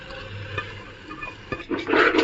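Basmati rice being stirred with masala in a pot, with soft scraping turns at a low background hiss and a heavier, wetter churning stir near the end.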